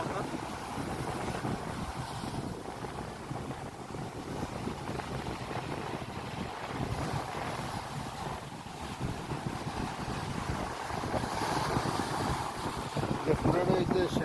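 Sea waves roll continuously at Alexandria beach in Egypt, a steady broadband wash heavy with wind buffeting the microphone, with people talking under the surf.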